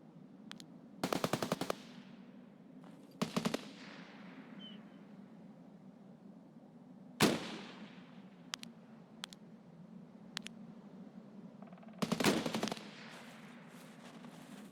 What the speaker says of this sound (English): Is he shooting at us?